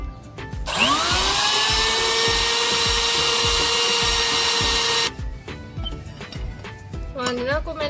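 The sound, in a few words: electric grinder grinding sun-dried moringa into fine powder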